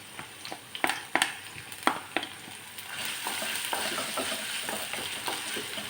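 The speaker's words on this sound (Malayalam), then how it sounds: "എണ്ണ ചൂടായിട്ടുണ്ട്. അതിലേക്ക് 1 ടീസ്പൂൺ വെളുത്തുള്ളിയും 1 ടീസ്പൂൺ ഇഞ്ചിയും കൂടി ചെറുതായിട്ട് കട്ട് ചെയ്തെടുത്താണ് അതിട്ട് കൊടുക്കുന്നുണ്ട്." Minced garlic and ginger frying in hot oil for a chicken kurma, a close, steady sizzle with a burst of sharp crackles and pops early on, settling into an even hiss with lighter spatters.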